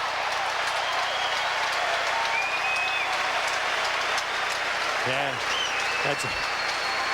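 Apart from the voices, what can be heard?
Agassi applauding at the US Open 2002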